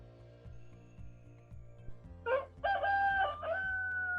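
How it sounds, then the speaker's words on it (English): At five in the morning on a coffee plantation, a rooster crows one loud, drawn-out cock-a-doodle-doo in close range, following a soft rhythmic thumping beat. "It's 5 in the morning, the rooster crow as we are begin the day working on coffee plantations."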